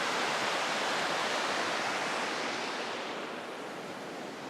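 Clear mountain streams joining below a wobbly suspension bridge on a wilderness trail, a steady, full rushing of water close by that fills the whole span alone, easing very slightly toward the end.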